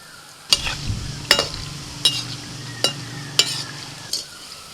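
Small palm fruit fritters (tal fulur) fry in a pan of hot oil with a low, steady sizzle, while a utensil strikes the pan at a regular pace of about one sharp clank per second.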